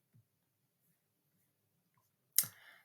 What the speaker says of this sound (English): now I will type this for the heading one